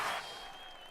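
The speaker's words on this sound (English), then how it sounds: "Give yourselves a round of applause, yo." A small group applauds at the close of a discourse show episode, a brief burst of clapping that starts strongest and thins quickly into a soft, fading patter.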